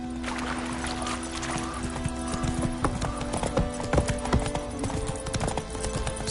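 Roach, Geralt's horse in The Witcher 3 video game, trots with steady clip-clop hoofbeats throughout, close and clear over a continuous music and ambient bed, with a brief snort or whinny.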